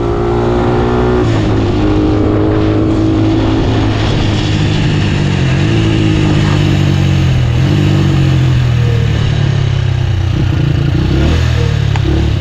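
The Motorstar Xplorer Z200 motorcycle engine howls loud and close through a race against a Sniper 150, its pitch climbing and dropping steadily with gear changes for the whole stretch, with no talking.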